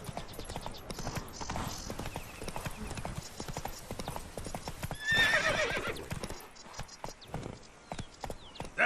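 Roach the horse clip-clops at a steady trot in The Witcher 3, hooves beating rhythmically throughout with a clear neigh midway and faint voices in the background.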